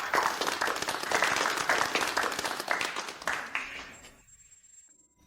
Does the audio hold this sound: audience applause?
yes